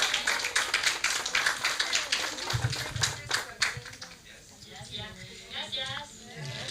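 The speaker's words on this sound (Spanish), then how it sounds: "Un fuerte aplauso." Scattered clapping from a small crowd rises and fades over a few seconds, mixed with voices talking in the background.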